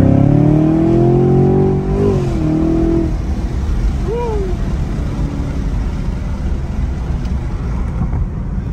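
A 2023 Chevrolet Camaro SS with a V8 accelerates hard on a night drive, its engine roaring loudly from inside the cabin with a rising pitch, a shift, then a steadier high-speed drone.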